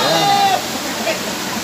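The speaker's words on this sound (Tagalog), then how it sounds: "Naingay nga lang yung tubig kaya hindi tayo rinigan." Daranak Falls waterfall pouring with a steady broadband rush of water, loud and continuous, with a faint voice and a brief whistle-like tone over it.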